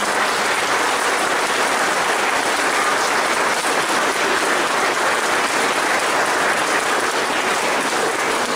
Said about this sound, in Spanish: Vamos a dar un fuerte aplauso a San Sebastián en este día.